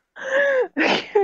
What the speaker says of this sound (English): every time we talk about her, she just sneezes